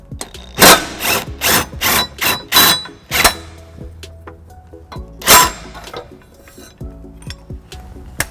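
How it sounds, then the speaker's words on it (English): A cordless impact wrench with an extension and 11 mm socket hammers at a tow hook on a 2018 Toyota Highlander, firing several loud rattling bursts in quick succession, then one more after a pause, amid faint metallic clinks. "next I'll be using the cordless impact with a 6-inch extension and 11 millimeter"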